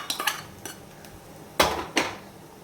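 Spoon scraping and clinking against a pan while ravva laddu mixture with roasted dry fruits is stirred, a few light taps followed by two louder scrapes near the end, close and without talk.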